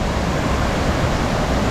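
Small trailside waterfall at Cloudland Canyon, Georgia, a steady broadband rush of falling water, close and even throughout, with no voices.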